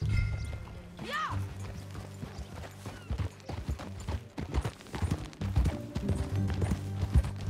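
Horse hooves clip-clopping in a steady rhythm during a ride in the Red Dead Redemption 2 video game, set against a game soundtrack and ambience, with a short whinny-like sweep near the start.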